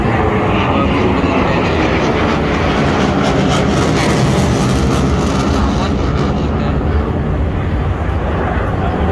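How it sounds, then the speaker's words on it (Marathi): Powerful engine roar from Indian Air Force Suryakiran fighter jets at a Marine Drive, Mumbai air show, dense and sustained at high volume, rumbling steadily with a faint voice barely surfacing underneath. "प्लेन आलेलं आहे बघा हे. बघू शकता तुम्ही फायटर जेट पाहू शकता"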